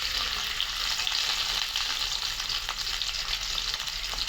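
Onions fry in oil in a pan for a tangra fish curry, a dense, even hiss of sizzling heard up close with no talking.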